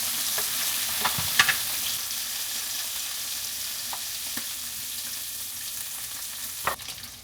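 Bacon frying in a skillet, an even, continuous sizzle with a few faint pops and soft scrapes scattered across it, no talking.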